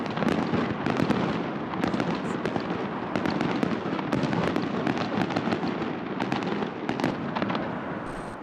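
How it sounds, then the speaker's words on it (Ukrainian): A dense, continuous barrage of festive fireworks, with sharp cracks and booming bursts overlapping steadily throughout, loud and sustained. "починає лунати святковий салют"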